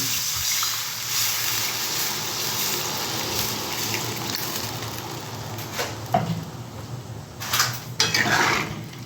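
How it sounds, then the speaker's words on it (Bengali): Water poured into a pan of fish curry with mango and pumpkin, a steady close splashing wash with brief clinks of a utensil against the pan near the end. "আমি এখন জল দেবো বন্ধুরা আমি একটু জল দিয়ে দিলাম এখানে"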